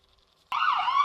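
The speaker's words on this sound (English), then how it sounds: "The ambulance." A toy ambulance siren from a children's playground play scene starts abruptly after a short near-silence and holds a loud, steady wailing tone to the end, with no voices.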